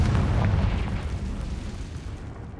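Confringo blasting spell explosion in Hogwarts Legacy, a loud booming burst at the start that decays into a fading, rumbling tail.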